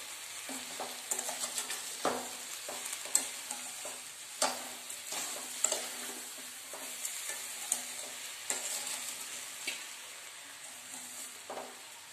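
Amla gooseberries are stirred gently in melting sugar in a pan over low flame, soft scraping and irregular spoon knocks over a faint sizzle, quiet and close without speech.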